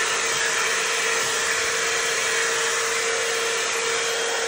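T3 Airebrush hair dryer running at max heat and max speed, a steady loud close whooshing blow with a constant tonal whine and no breaks.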